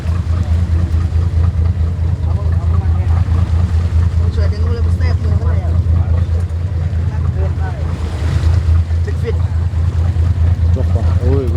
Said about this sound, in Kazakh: Ал қайықты қосты, моторды қосты.